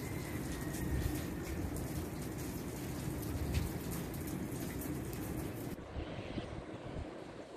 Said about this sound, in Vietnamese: Hôm nay là trời mưa ở đảo Maui Hawaii.